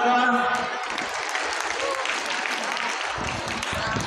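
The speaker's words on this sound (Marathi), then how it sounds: "एकदा सर्व मुलांनी जोरदार टाळ्या वाजवा." Schoolchildren at a Ganesh festival prize ceremony clap loudly together in a dense, continuous burst of applause, with voices audible at the start and chatter mixed through.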